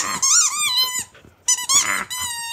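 A new squeaky dog toy is squeezed repeatedly, giving loud, close, high-pitched wheezing squeaks in two bursts separated by a brief pause, with no talking.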